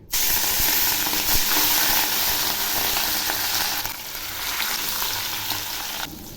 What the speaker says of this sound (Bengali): তেল গরম হয়েছে, এখন আমি মাছগুলো ছেড়ে দিচ্ছি।